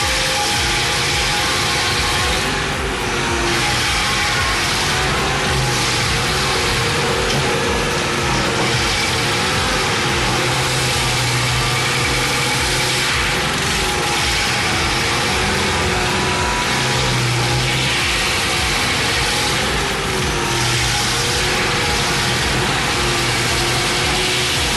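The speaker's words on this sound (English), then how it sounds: "let me introduce you to the Hurricane TRX stump grinder. It features a powerful 300 horsepower engine" A Hurricane TRX stump grinder with a 300-horsepower engine runs steadily and loud throughout, a dense mechanical drone with a low rumble and faint rises in pitch, with no voices.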